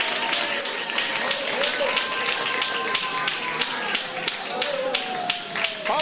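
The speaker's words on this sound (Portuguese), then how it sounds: "Palmas para Cristo" Church congregation clapping together in a steady, sharp rhythm while a voice speaks over the applause.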